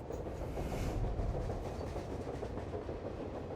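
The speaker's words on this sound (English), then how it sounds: "Oh, train." Train in the video game Type:Rider rumbles in a steady, moderately loud low roll with a rhythmic rail clatter, heard alone and continuous from start to end.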